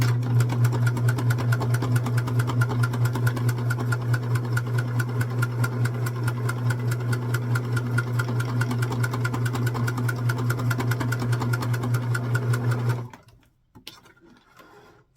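Sewing machine stitching fabric pieces for a snowman, a close steady rapid mechanical whirring with a fast even needle beat, running for about thirteen seconds before it stops abruptly, followed by faint handling sounds.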